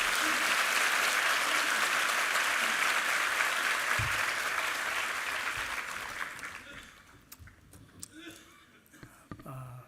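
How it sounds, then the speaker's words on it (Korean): A church congregation in a Korean Sunday service applauds to welcome a visiting pastor; loud, dense clapping fades out over several seconds, leaving scattered claps and quiet room noise near the end. "박수로 환영해 주십시오"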